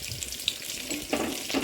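Fish fries in a pan with a close, crackling sizzle that swells in short bursts over a brief stretch.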